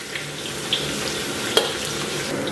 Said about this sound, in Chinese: 油温6、7成热啊，咱们把这个姜给它下里边，先给它简单煸炒一下。